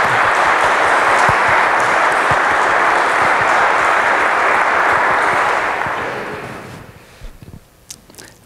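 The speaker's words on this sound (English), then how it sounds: "Can we applaud Gary because of the transition we didn't get to?" Lecture audience applauding the speaker Gary, a loud, dense wash of clapping that holds steady for several seconds, then fades out, leaving a few scattered claps and room noise.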